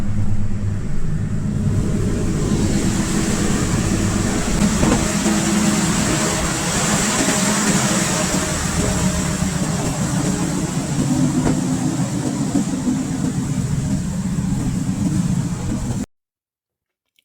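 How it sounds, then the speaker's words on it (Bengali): A train power car supplying electricity on the Ruposhi Bangla Express roars with a loud, steady generator drone and broad mechanical rumble heard up close, unchanging throughout before stopping abruptly at the end. "এই পাওয়ার কার থেকেই কিন্তু সমস্ত ট্রেনে বিদ্যুৎ সাপ্লাই হয় এখানে যথেষ্ট সাউন্ড রয়েছে"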